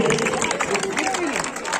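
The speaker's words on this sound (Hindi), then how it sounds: "जोरदार तालियां" Crowd clapping for award winners at an inter-zonal teachers' sports competition, a dense steady patter of applause with murmured voices and someone speaking over it.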